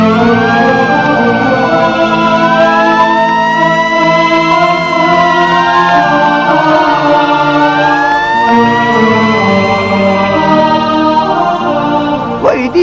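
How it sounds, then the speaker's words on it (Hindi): A loud ambulance siren wails continuously and close, its rising and falling tones sweeping over a steady engine drone for the whole stretch. "वहीदी ट्रस्ट वालों की एम्बुलेंस आ चुकी है।"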